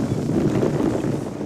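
Wind blowing across a beach, a loud, steady rushing buffet against the microphone with a low rumble, heard alone for a brief moment.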